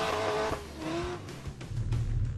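A drift car slides with its tires squealing, a loud sustained screech over the roaring engine that shifts pitch and then gives way to heavy engine rumble.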